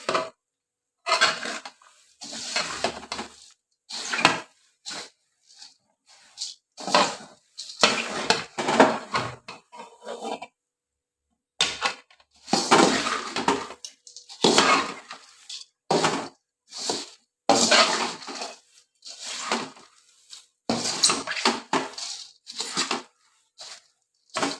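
Puffed rice (murmura) chivda being tossed and stirred in a metal pan, rhythmic scraping and rustling bursts of crisp grains against the pan, close and loud, separated by short pauses.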